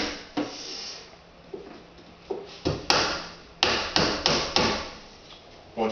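Window trim being tacked into place at an inside corner of a window frame, a series of sharp hammer-like taps, roughly eight to ten irregular knocks, close and fairly loud.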